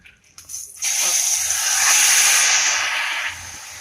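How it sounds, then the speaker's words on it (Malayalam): A whole chicken drops into hot coconut oil and a loud, close hiss of deep-frying surges up, holding for a few seconds before easing slightly. "ഇനി ചിക്കൻ എടുത്ത് നമുക്ക് അതിനകത്തിട്ട് പൊരിച്ചെടുക്കാം"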